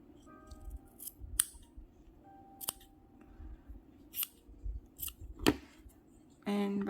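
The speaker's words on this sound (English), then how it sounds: "So I'm going to cut all the 4 corners." Scissors snip the four corners of a piece of fabric: a handful of sharp, separate cuts spaced a second or so apart, close and quiet, over faint room noise.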